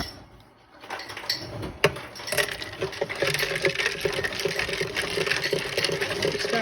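Ice is stirred into homemade Ramadan juice, a continuous busy rattle of cubes clinking against the container that starts after a brief quiet moment and stays fairly loud.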